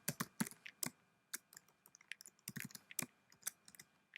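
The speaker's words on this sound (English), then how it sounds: "Let me type the text, hello world." Keystrokes on a computer keyboard while typing a short line of text into a LaTeX document, a quiet irregular run of crisp clicks in small bursts with brief pauses, close by and alone.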